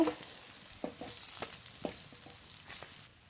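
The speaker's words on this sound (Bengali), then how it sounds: "বাকি মাছগুলো এই তেলে ভেজে নেব" Pieces of rohu fish fry in hot oil, a close crackling sizzle with several sharp spatter pops and faint stirring scrapes, ending abruptly.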